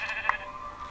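A single short sheep bleat from Minecraft, clear and fairly close, ringing briefly over faint background hiss.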